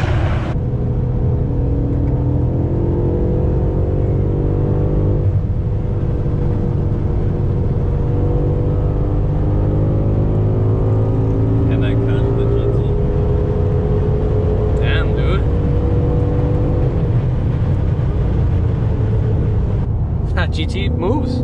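A BMW F90 M5 engine drones loudly and continuously, its pitch rising and falling through gear changes and a downshift, with exhaust noise echoing as if in an enclosed space.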